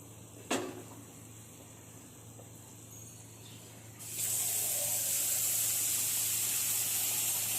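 Ingredients for an egg curry tipped into a hot pan, a sharp tap at first and then a sudden loud, steady broadband hiss that continues to the end.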